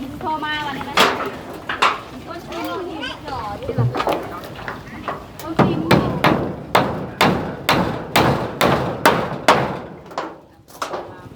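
Nails are hammered at a house construction site, a near, steady series of sharp metallic strikes that come faster toward the end, with people talking under the early blows.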